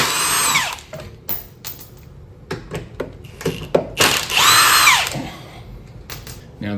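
A power tool runs in loud whirring bursts as it removes the rear K-member bolts on a 1997 Mustang Cobra. There are two long runs with rising and falling whine, and short clicks and clunks in between.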